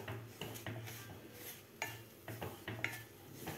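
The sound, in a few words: roasting semolina (rava) in ghee in a pan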